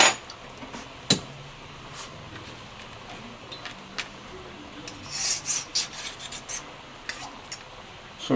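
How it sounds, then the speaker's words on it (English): A knife saws through a tender pressure-cooked pot roast with close, raspy scraping strokes, and now and then the blade knocks sharply against the board or pan. The cutting gets busier toward the end. "go ahead and cut it into nice serving pieces here"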